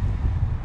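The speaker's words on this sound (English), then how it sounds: "It's very windy, hope you hear this." Strong wind buffets the microphone beside a road-trip camper van, a loud low rumbling roar that fills the whole short moment with no talking.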